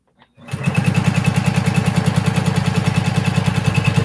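A sewing machine quilting with a walking foot starts up after a brief pause, then runs steadily with a fast, even mechanical stitching rhythm, loud and close.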